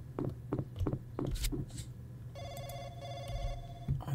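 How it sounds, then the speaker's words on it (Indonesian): A telephone rings in the horror game Don't Face Up, a trilling electronic bell tone that sounds steadily for over a second after some knocking and footstep-like thuds, close and clear with no speech. "Ada telepon tuh."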